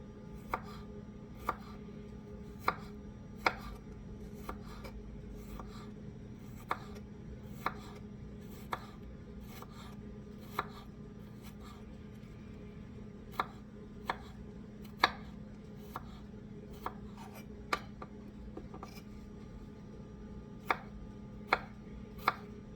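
Small knife chopping food on a cutting board, sharp rhythmic taps at a steady then irregular pace, close but quiet over a low background hum.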